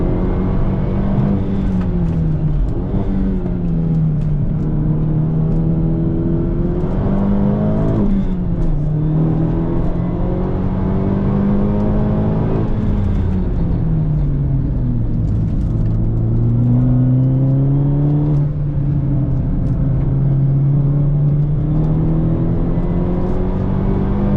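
Modified car accelerating hard on a flying lap around a race track, its engine note climbing and dipping through gear changes in a loud, continuous drone from inside the cabin, with no talking.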